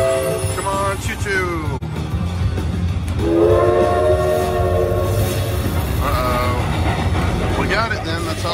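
Electronic train horn and whistle tones from a Cash Express slot machine sound repeatedly over a loud, steady rumble, with people talking underneath.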